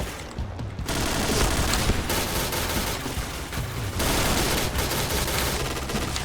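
Rapid gunfire in the video game Point Blank: a dense, loud, sustained volley of shots after a brief quieter lead-in, continuing with only short dips until the end.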